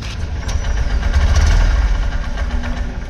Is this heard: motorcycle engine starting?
yes